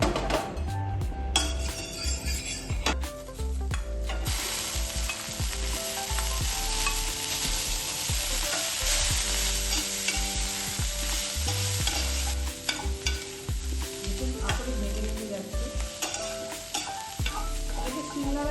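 Shutki dried fish fries in a little oil in a hot pan, giving a steady sizzle with frequent stirring scrapes and occasional clinks of utensil against the pan.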